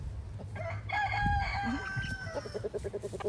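Backyard chickens cluck over a broken-open cold corn treat, with a rooster crowing through the middle; several birds call close by in a steady, busy chatter with no talking.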